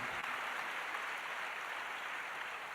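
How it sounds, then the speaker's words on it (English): Steady applause from a crowd at an educator award ceremony, a dense even wash of clapping that holds at a constant level throughout. "Give a big round of applause"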